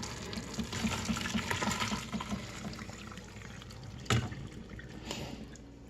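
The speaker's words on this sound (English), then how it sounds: "I'm gonna take this and I'm gonna drain it out" Hot water gushes and splashes as it drains out of a cooking pot of noodles, a continuous rushing flow with a brief louder splash near the end.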